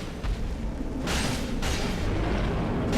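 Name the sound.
boss explosion attack in video game Dark Souls III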